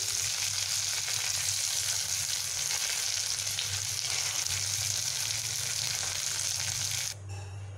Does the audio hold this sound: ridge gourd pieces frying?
yes